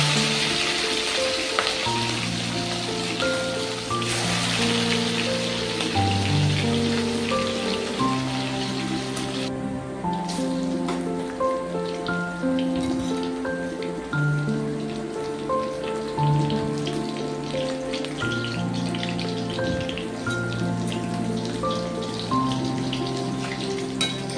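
Katla fish pieces fry in smoking-hot oil, a steady crackling sizzle that continues throughout with no talking, while music plays prominently over it.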